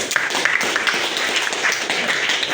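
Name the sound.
classroom applause for Sultan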